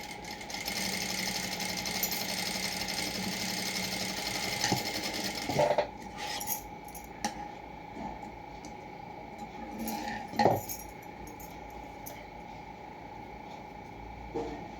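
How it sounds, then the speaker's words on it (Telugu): Sewing machine stitching folded blouse fabric, a steady continuous whir for most of the stretch, then broken into short bursts with brief pauses and small clicks. "ఇప్పుడు శంఖ వైపు నుంచి ఇలా ఫోల్డింగ్ చేసుకొని స్టిచ్చింగ్ చేయాలి"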